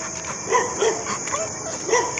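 A dog on a walk gives a few short, high whines and yips in quick bursts, close by, over steady outdoor background noise with no talk.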